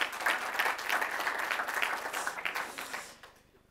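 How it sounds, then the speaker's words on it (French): Audience at a French badminton federation general assembly applauding, a brief burst of steady clapping from a room of people that fades out after a few seconds. "Donc on peut les applaudir."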